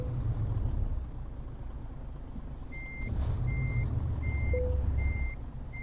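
A truck's reversing alarm in Euro Truck Simulator 2 beeps in an even series of about five tones over a steady low engine rumble, with a brief air-brake hiss in the middle.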